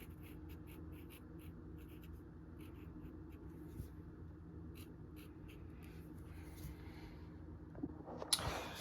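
A pen scratches and taps across waterproof labels in short, faint strokes over a low steady hum, ending with a few louder scuffs near the end; no one speaks.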